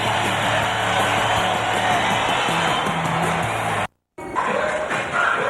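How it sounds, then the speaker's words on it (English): A basketball arena crowd at an NBA game cheering and roaring in a dense, continuous wash of noise, cut off by a brief silent break before the roar resumes. "Oh, the crowd into it now"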